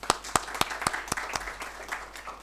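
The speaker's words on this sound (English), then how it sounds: "Give a big clap for him." At a business panel event, a small audience claps for a National Teachers Award honoree, with sharp, evenly spaced claps standing out at first before trailing into softer, scattered clapping.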